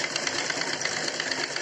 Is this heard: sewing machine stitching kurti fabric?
yes